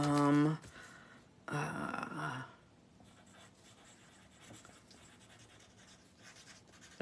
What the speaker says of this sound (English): I'm going to write something down here